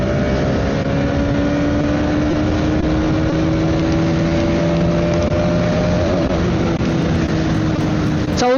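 A motorbike engine holds a steady, continuous drone in fourth gear on an open road, its tone climbing slowly as it pulls, with constant wind rush and no talk.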